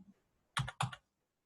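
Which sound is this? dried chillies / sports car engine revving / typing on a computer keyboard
typing on a computer keyboard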